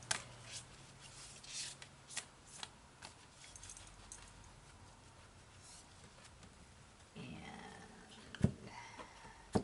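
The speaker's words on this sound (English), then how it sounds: "Now this one I don't mind shuffling up." A deck of oracle cards is shuffled by hand, giving steady soft riffling and rubbing with occasional louder card slaps, close and fairly quiet, with no talk over it.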